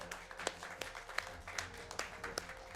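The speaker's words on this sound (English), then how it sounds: "Can we get a round of applause for Lori and Corey?" Faint audience applause at a speedrun event, a scattered patter of claps continuing steadily at a distance with no voices over it.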